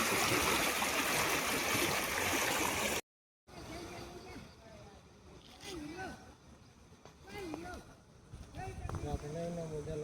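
Floodwater after heavy rain rushes loudly and continuously past a railway bridge and ponds, a dense roaring wash that breaks off abruptly, with someone talking over fainter water afterward.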